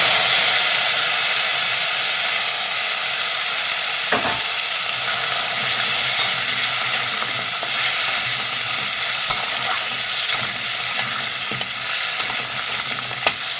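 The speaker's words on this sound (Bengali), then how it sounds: "কাঁকড়াগুলো এবার এর সঙ্গে দিয়ে ভেজে নিয়ে যাচ্ছি" Crabs frying in oil in a pan, a steady loud sizzle with crackling and occasional sharp clicks of stirring, no voices.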